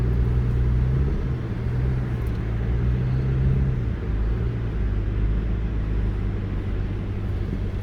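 A 2022 Toyota RAV4 Hybrid crawls over the sand dunes at Oceano Beach, giving a steady, continuous low engine and drivetrain rumble that holds even throughout, with no talking.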